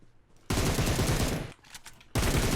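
Sustained automatic rifle fire in the mobile battle royale game PUBG Mobile, a loud close burst lasting about a second, a short break, then another burst starting up.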